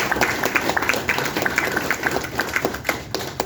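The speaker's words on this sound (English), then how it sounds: "We ought to give the police department a hand." People at a city council meeting give scattered, uneven applause for the police department, individual claps standing out within the room's sound.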